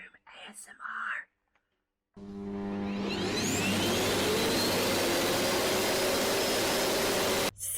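A vacuum cleaner starts up after a short silence and runs loud and steady with a rising whine, preceded by soft whispered speech.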